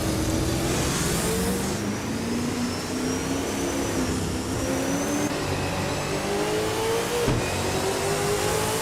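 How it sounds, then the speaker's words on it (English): A 2015 Ford Falcon FGX in a racing video game, its engine droning and revving steadily with rising and falling pitch sweeps, loud and continuous with no talk. "Cryptic Kaiser is driving a 2015 Ford Falcon FGX."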